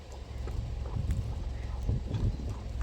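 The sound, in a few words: donkey hooves clip-clopping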